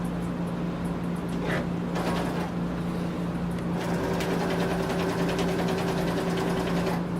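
A sewing machine stitching a bag hums and whirs steadily throughout, with a fast rhythmic needle chatter that grows stronger in the second half.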